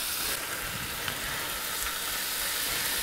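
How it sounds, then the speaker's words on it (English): Two strips of smoky bacon frying in a pan, a steady close hiss and sizzle with faint pops that holds at an even level throughout, no voices. "fry a couple pieces of bacon"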